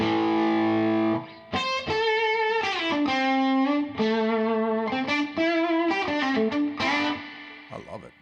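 Electric guitar played through an amp with a splashy reverb, a short run of picked notes and bends with distortion, ringing tails trailing after each phrase.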